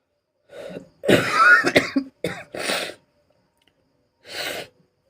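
A cluster of harsh coughs close up, then a pause and one more cough on its own.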